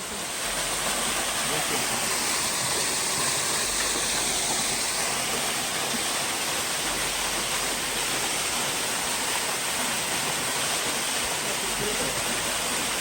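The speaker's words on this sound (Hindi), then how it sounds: "ये अभी सर्दियों की वजह से आबशार की धार कम हो गई है, वरना ये पानी यहाँ गिरता आके।" A waterfall at Chikar in Azad Kashmir, its flow thinned by winter, gives a steady, dense rush of falling water that stays even and close throughout with no pauses.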